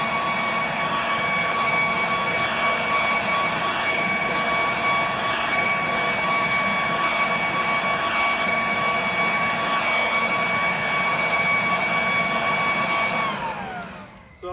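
Worx WG507 cordless 3-in-1 leaf blower running at full speed, a steady loud whining whoosh with tonal motor hum, close by and sustained, winding down abruptly at the end.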